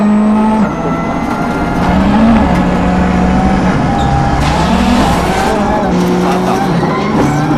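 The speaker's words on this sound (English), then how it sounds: "Let's get a driver's eye view of the stage from Marcus Gronholm's car" Ford rally car in the 2002 World Rally Championship in Finland, heard onboard at speed on a special stage, with loud engine drone, shifting revs and gear changes throughout while a co-driver's voice calls pace notes beneath it.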